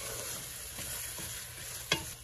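Spoon stirring prawn biryani masala in a hot pan with a handful of mint and coriander leaves, a steady sizzle throughout with soft scraping strokes and one sharper clink near the end, no voices.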